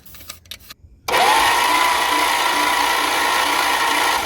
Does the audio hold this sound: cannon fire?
no